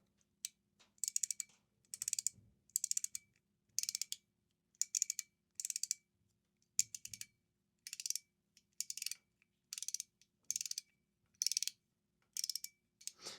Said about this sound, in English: So I can feel that extra click right at the end, ever so slightly.